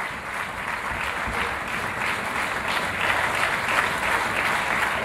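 Audience and orchestra at an award ceremony applauding steadily, a dense sustained wash of clapping that holds at a fairly loud level throughout with no break.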